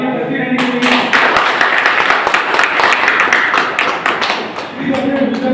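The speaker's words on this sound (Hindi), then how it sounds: "तालियां बजती रहनी चाहिए" Audience applause at a BJP Jammu and Kashmir cells Sammelan in Trikuta Nagar, a dense, loud wash of clapping that carries through most of the stretch before easing off near the end.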